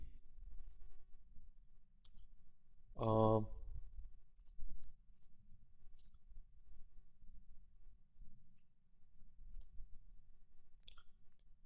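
A single computer mouse click stands out as a brief sharp tick amid quiet room hiss, with soft speech murmuring faintly around it.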